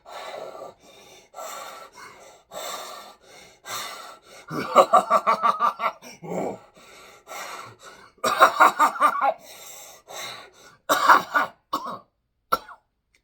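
Man gasping and struggling for breath in the horror film Insidious: Chapter 3, a series of close, ragged inhalations, choking coughs and throaty rasps in uneven bursts separated by brief silences.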